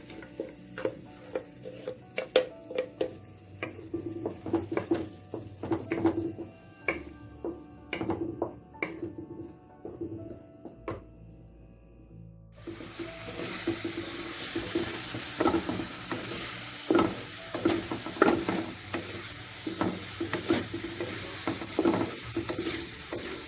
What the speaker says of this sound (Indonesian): sekarang kita tumis bumbunya yang udah dihaluskan tadi ya. Kita tumis sampai harum.